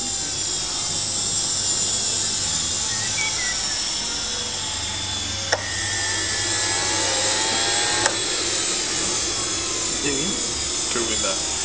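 A Behotec J66 micro jet turbine whines at a high, steady pitch, its tone sliding up and down as it revs toward about 122,000 rpm, with a couple of sharp clicks.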